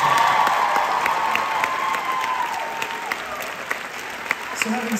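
An audience applauds at a live Christmas concert in a Boston theatre, a dense burst of clapping that fades to scattered claps and a few cheers near the end.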